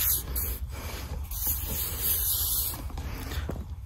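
Bursts of Aerogard insect repellent aerosol spray hissing close by at a beachside camp, several short pulses in a row with brief gaps, against a low background rumble.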